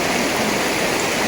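River water flowing near Shivlotri temple, a steady broadband rush and gurgle of running water close by, continuous and loud with no pauses.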